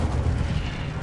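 Incendio fire spell from Hogwarts Legacy erupts as a loud, close whooshing burst of roaring flame, a dense low rumble sustained through the whole brief moment with no voices.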